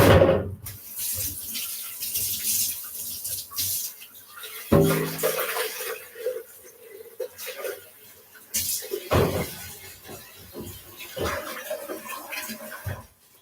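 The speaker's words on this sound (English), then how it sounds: "Get water in my blender before it starts sticking." Tap water runs into a blender in a kitchen, splashing and gushing in uneven bursts with knocks and clatter, fairly faint overall.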